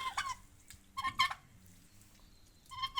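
Several turkeys gobble in short, warbling bursts with pauses between, fairly close, over a quiet outdoor background.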